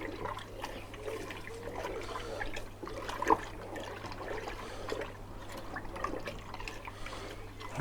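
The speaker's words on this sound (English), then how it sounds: "So now we're just mixing that yogurt in, diluting it into that warm milk." Yogurt being stirred into warm milk inside a Ninja Foodi pot: soft, continuous liquid swishing with occasional light clinks, over a steady low electrical hum.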